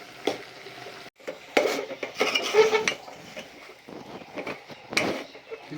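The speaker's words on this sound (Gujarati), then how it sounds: "આ રીતે હલાવતા જઈશું" Rice flour dough with fresh methi leaves and turmeric stirred in a metal pot for methi puri, giving clattering scrapes and knocks of the spoon against the pot that come in irregular bursts over a low background.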